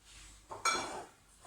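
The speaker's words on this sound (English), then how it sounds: "in the bottom one, we put the plates. So you see they slot in there" Ceramic dinner plates slotted one after another into the bottom rack of a household dishwasher, giving a short cluster of clinks and knocks against the rack tines, close and fairly quiet with no talk.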